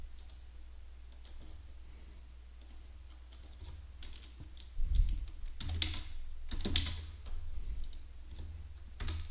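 Quick, irregular clicking of keys on a computer keyboard as commands are typed into a Windows command prompt, close and fairly soft, with a few louder bursts of rapid keystrokes and no talking.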